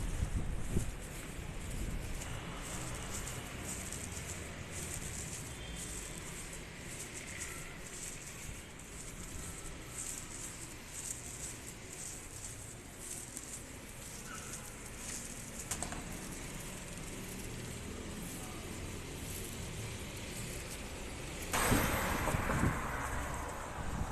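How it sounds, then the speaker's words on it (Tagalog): Cold wind gusting steadily outdoors near a house, a broad rushing roar with microphone buffeting that swells briefly near the end, with no talking. "Naghangin-hangin pa."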